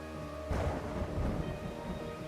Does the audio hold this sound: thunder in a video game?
yes